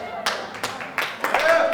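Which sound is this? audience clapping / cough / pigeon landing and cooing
audience clapping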